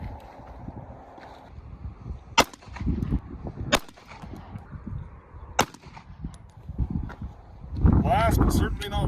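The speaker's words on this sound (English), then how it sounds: "so now we'll do 3 more shots with the Browning high power." Three sharp gunshots from a Browning Hi-Power pistol ring out at an outdoor range, spaced about a second and a half apart, over steady background rumble with people talking nearby.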